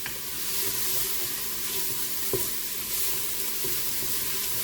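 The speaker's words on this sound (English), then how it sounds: "we're just going to stir that around for a minute because we don't want that red pepper to burn" Red pepper sizzling and frying in a pot for spaghetti sauce, with a steady hiss and a stirring scrape or clink near the middle.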